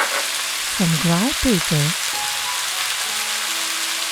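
Frog legs stir-frying with fermented black beans, hot chili and ground pepper, a steady close sizzle under a brief spoken phrase, with a few clatters from stirring.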